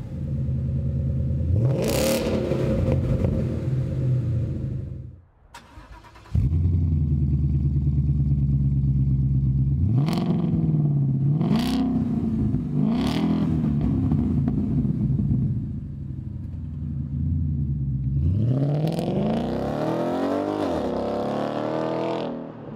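A 2015-2017 Ford Mustang GT with a MagnaFlow Competition quad-tip exhaust revs up repeatedly, deep and aggressive, roaring loud and close with a rumbling idle between blips and a brief drop-off midway.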